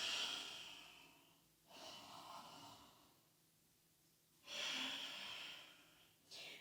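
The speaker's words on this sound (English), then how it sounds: "Breathing." Slow breathing during a slow-flow yoga class: quiet, drawn-out exhalations through the nose or mouth come in long waves with pauses between them, soft and close.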